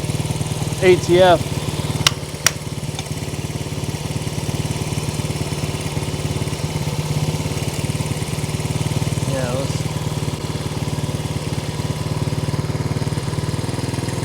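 A seized 1970 Honda CL100 motorcycle engine, newly revived and smoking, runs steadily at a low idle throughout, with a voice speaking briefly near the start and again near the end.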